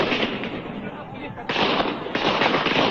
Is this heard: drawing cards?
no